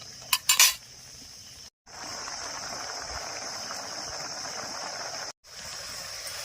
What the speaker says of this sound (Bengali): এবার ঢাকনা দিয়ে দেবো